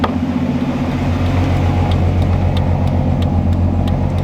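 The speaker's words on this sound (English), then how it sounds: "The car runs, it idled high and then kind of came back down" A car engine idling after being repaired, a loud, close, steady low rumble with an even pulsing rhythm that holds at a raised idle and then eases slightly.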